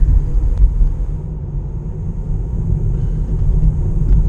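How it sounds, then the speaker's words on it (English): Interior of a Tesla Model 3 electric car driving on a road: a steady, loud low rumble of tyres and road noise with no engine note and no talking. "this is the first time ever a Model 3 is driving on these roads here"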